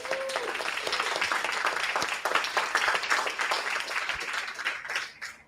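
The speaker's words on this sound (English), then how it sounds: "if I could get the room for a round of applause again" Applause from a room of attendees at a Python meetup, a dense spread of clapping that holds steady, then tapers off and fades near the end, with a brief tone at the start.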